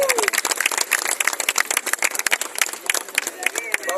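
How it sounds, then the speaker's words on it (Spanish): A crowd at a campesino and Ngäbe Buglé gathering at the Palacio de las Garzas in Panama claps loudly and unevenly, sharp close hand claps layered over background chatter and voices. "Sí, un aplauso para ustedes."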